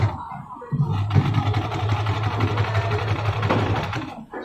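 A sewing machine stitches a bag seam in a fast, even, whirring run that starts sharply, holds steady for several seconds and then stops, heard up close.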